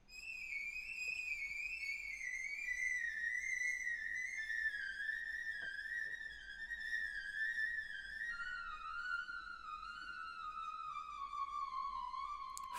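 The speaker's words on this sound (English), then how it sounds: "So we've got this sort of ridiculous sort of whistling effect." Four piccolos in an orchestral film score play a high, sustained whistling line that slowly glides downward, with a faint trace of other instruments beneath, steady and fairly quiet throughout.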